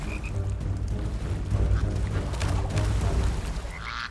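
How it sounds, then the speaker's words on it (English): A frog croaks in a wild outdoor setting, low rough croaking under a continuous background of nature noise with a few brief higher chirps. "And the prize? A frog."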